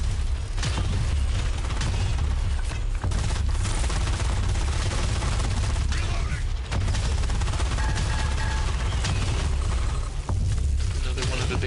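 Sci-fi plasma cannon fire from the Fire Fall game keeps up a dense, continuous barrage of booming shots and blasts for the whole stretch, loud and close with no pause.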